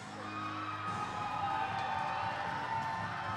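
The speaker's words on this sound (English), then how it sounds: "The crowd loves the Iron City." A crowd at a high school homecoming wrestling show cheers and shouts in a steady, continuous roar, somewhat distant and reverberant.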